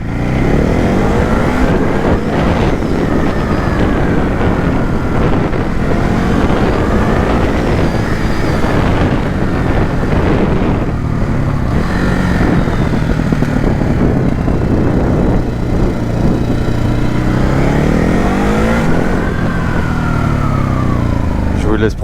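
Ducati Hypermotard RVE 2021 motorcycle engine droning loudly and steadily while riding, with a few rising revs, heavy wind buffeting on the microphone throughout.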